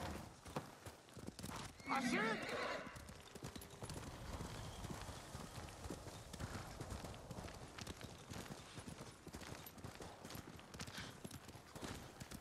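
A horse in the video game Ghost of Tsushima gives a brief whinny over clip-clopping hooves and ambient game sound, faint and fairly distant.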